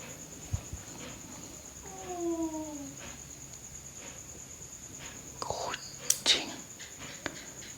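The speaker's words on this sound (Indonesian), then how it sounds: "kucing ternyata dari tadi" A cat gives a soft meow partway through amid quiet whispering and faint background hiss, with a few small knocks later on.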